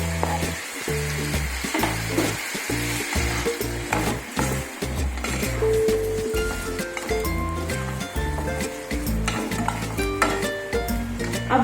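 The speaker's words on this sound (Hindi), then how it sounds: "अब इस स्टेज पर हम इसमें डालेंगे प्याज।" Onions sizzle and fry in a pan for Indian onion pickle (pyaaz ka achaar), with steady crackling and repeated scraping stirs throughout, loud and close with no talk.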